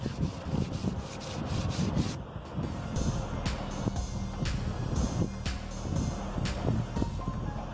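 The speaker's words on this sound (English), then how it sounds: "Also use this sandpaper in the drum to clean it." Sandpaper rubbed around the inside of a Suzuki Bolan rear wheel brake drum, a close, steady abrasive scrubbing with quick rhythmic strokes at first, then continuous grinding rasps, no voices.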